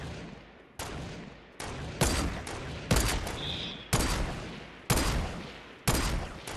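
Gunfire in the video game Fortnite during a sniper shootout: about eight sharp, loud single shots, roughly one each second, each with a short decaying tail. No talk over them.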